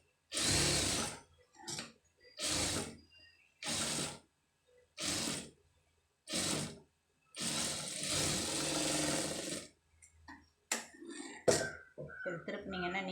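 A domestic sewing machine runs in repeated short bursts while stitching a seam along the edge of an embroidered blouse, followed by one longer continuous run, then softer clicks and handling noises near the end.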